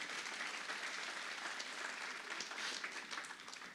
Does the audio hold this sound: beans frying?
no